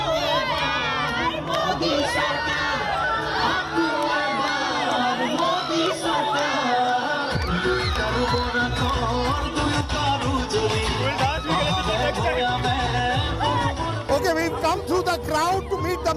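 An excited crowd at an Assam election rally cheers and shouts continuously, a dense roar of voices with whoops rising throughout, with people talking amid the din.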